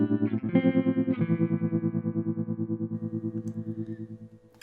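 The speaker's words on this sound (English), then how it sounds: "So it's a fairly fast tremolo sound." Guitar through a Fairfield Circuitry Randy's Revenge ring modulator pedal: after a few plucked notes, a sustained chord throbs in a fast, even tremolo pulse that slowly fades, heard alone.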